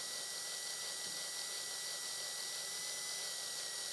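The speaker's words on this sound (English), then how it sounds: "we're going to drill out the bolt or screw, okay, to get a hole through it." A drill bores out a broken screw or bolt, a steady high-pitched whine held without a break, loud and close, with no voices.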